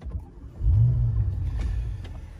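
A Bentley car engine cranks and catches, then settles into a low, steady idle rumble close by.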